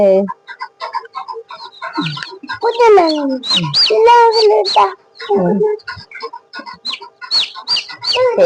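Chickens cluck and chicks peep close by in a lively, irregular chorus of short calls and chirps.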